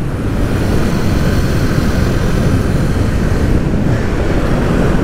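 Kawasaki Z motorcycle engine roaring steadily while riding on a winding mountain road, dense and loud throughout with heavy wind rush and no clear pauses.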